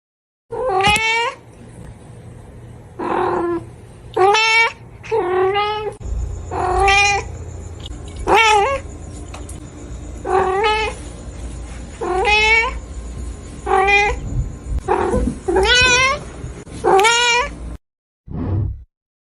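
A cat meows repeatedly, loud and close, about a dozen drawn-out rising and falling calls with short gaps between them, a brief final call coming after a moment of silence.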